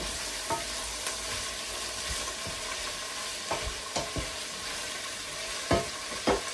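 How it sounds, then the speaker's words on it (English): Spring onions fry in a pan under a constant soft sizzle, with the sharp scrape and clatter of a spoon stirring them at irregular intervals. "I will come now with my spring onions. I add them in. Give them a stir."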